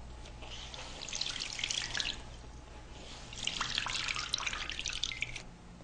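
A wet ShamWow cloth rolled up and wrung out, water splashing and trickling down in two sustained bursts, close and fairly loud with no talking.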